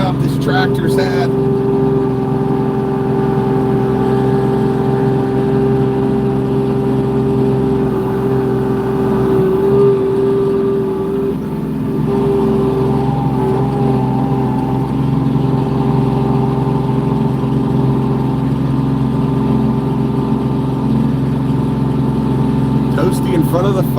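A Kubota LX2620 HSDC compact tractor runs while plowing snow in a big snowstorm, its engine holding a loud, steady, close droning hum with only slight dips and rises throughout.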